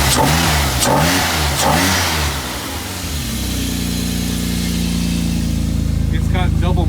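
A race car engine with double mufflers revs loudly a few times in neutral, then settles into a steady, throaty idle rumble, with a voice talking over part of it.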